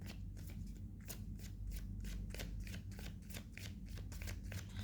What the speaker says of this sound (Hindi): एक लास्ट शफल और करूँगी मैं.